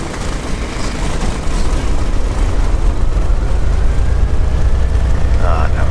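Allison aircraft engine idling in the A2A Accu-Sim flight simulator after the mixture is advanced, a loud, steady low rumble holding throughout with no talk over it.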